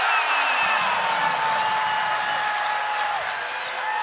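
Virginia Tech Hokies home basketball crowd roaring and clapping in an arena, a loud sustained wall of cheers, whoops and applause with whistles, under which a voice talks briefly.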